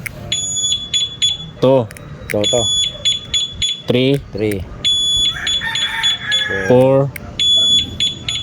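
An XRM 125 motorcycle's two-way alarm sounds in loud, repeated high electronic beeps and chirps, tested at different sensitivity levels, interleaved with close talking.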